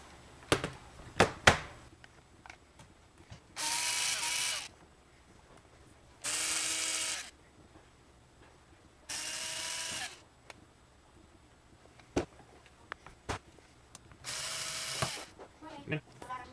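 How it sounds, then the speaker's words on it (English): Screws being backed out of a Lenovo ThinkPad X61 laptop with a small electric screwdriver, four short whirring bursts of about a second each, separated by quiet pauses with faint clicks and handling noises. "So now we've exposed the screws, and we can start removing those."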